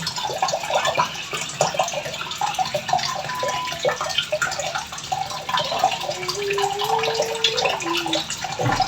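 Thin stream of water from a household tap filling containers, a steady low wash heard alone, with a rising tone near the end as a vessel fills up.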